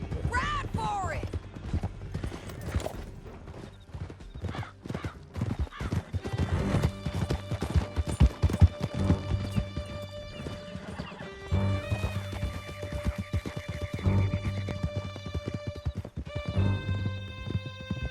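Horses gallop in Red Dead Redemption 2, dense rhythmic hoofbeats pounding close and loud for a long stretch, with whinnies, crashes and tonal in-game sounds mixed in.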